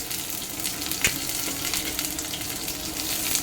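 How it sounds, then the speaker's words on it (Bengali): Chopped onions fry in hot mustard oil for a lentil dish, giving a continuous close, even sizzle with one brief utensil tap, no voices. "পেঁয়াজটা একটু ভেজে নিই"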